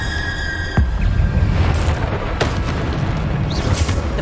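Bombarda blasting spell explosions in the Hogwarts Legacy video game: a sharp boom followed by several more bursts and crackling debris over a busy game-battle background.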